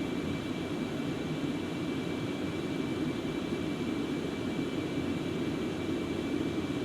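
Concorde jet engines at high throttle in the X-Plane 11 flight simulator, a steady, unbroken loud roar with a faint constant high tone, unchanging throughout.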